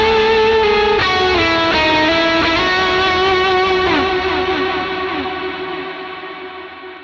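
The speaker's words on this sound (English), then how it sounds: "So now it's the P&W lead sound with the POG on," Electric guitar lead through a Fractal Axe-FX III with a POG octave effect, sustained distorted notes doubled by shimmering octaves, phrases gliding and bending with echo trails, loud and alone, fading out toward the end.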